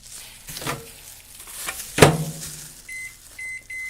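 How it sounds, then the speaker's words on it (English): Kitchen clatter and a sharp clunk, then a microwave starts with several short electronic beeps and a low hum. "So now you're going to put the centers of your turkey in the microwave for 1 minute"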